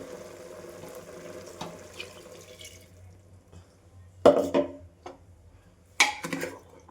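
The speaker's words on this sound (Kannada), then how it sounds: "ಸ್ವಲ್ಪ ನೀರು ಹಾಕ್ಕೊಳ್ಳೋಣ" Water runs and splashes into a bowl in a couple of short bursts, with faint background noise between and no talking.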